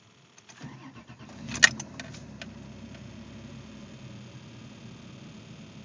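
A Chrysler Imperial's engine cranks and catches inside the car, with a sharp clatter of keys near the start, then settles into a steady low idle rumble that runs alone to the end.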